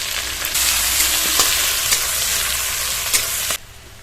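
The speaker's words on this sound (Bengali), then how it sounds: "সেই তেল এবার কড়ার মধ্যে দিয়ে দেবো দিয়ে দেবো পেঁয়াজ কুচি কাঁচা লঙ্কা কুচি" Onions and green chilies sizzle and crackle steadily in hot oil, a dense close frying hiss that cuts off abruptly near the end.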